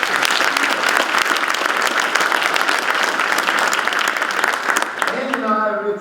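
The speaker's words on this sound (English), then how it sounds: "Give him another round of applause" A loud, sustained round of applause fills the room at an annual chamber of commerce banquet, dense and continuous, giving way near the end to a voice speaking.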